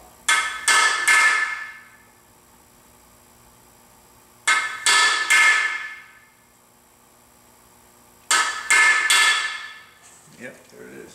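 A hammer tapping a socket to drive a freeze plug into an engine block, three groups of three quick metallic taps with ringing tails, close and clear.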